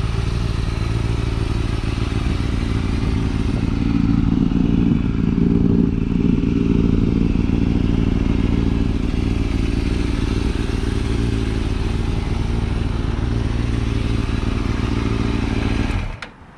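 A 2005 Kawasaki 636 sportbike idles steadily nearby for about sixteen seconds, its engine holding a constant low rumble with a slight swell partway through before cutting off abruptly at the end.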